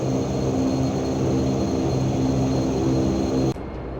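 A Dash propeller airliner in a flight simulator game drones steadily with a loud tonal engine hum, then drops off abruptly near the end to a quieter background.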